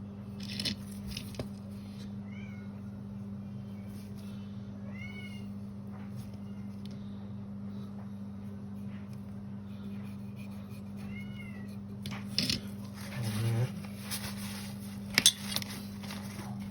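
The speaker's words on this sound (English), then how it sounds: "Cat's crying, oh brilliant." A cat meows several times in short, rising cries against a steady low hum in a hobby workshop, with a few clinks of brushes and small objects near the end.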